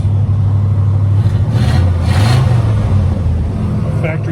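Parked-since-2002 1983 Hurst/Olds 15th anniversary V8 idling loud and close with a deep, steady rumble, briefly rising in pitch mid-way, with speech-like noise over it.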